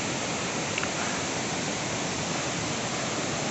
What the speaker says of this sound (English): The base of this waterfall.